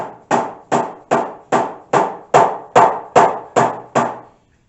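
Ten evenly spaced, sharp hammer blows drive a wedge to free a moulded fibreglass nose bowl from its mould, each strike close, loud and ringing briefly before the next.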